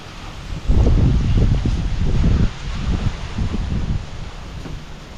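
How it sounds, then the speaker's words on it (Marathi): Wind blows outdoors in strong buffeting gusts against the microphone, loud rumbling bursts that rise and fall, with faint rustling and no speech. "आणि वारा बघा किती मस्त सुटलेला आहे"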